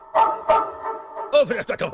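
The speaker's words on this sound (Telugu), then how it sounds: "ఇది మామూలు కుక్క కాదు" Two sharp, loud dog barks in quick succession, followed by people talking.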